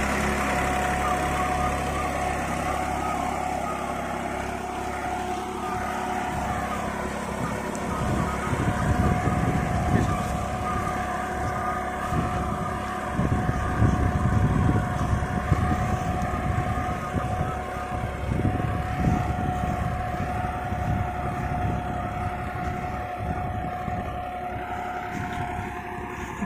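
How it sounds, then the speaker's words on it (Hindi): A New Holland tractor pulling an 8×8 harrow through a field drones steadily, with a sustained tonal whine over a rumbling low end that grows louder and rougher midway. "बहुत बढ़िया ट्रैक्टर है भाई"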